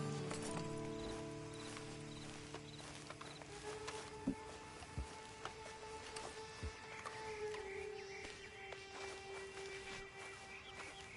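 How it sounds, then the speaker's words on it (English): Horse hooves clip-clop in the video game Red Dead Online, a series of soft, fairly faint thuds over game ambience and music. "Then you better get on this horse. Been a while since you rode a horse."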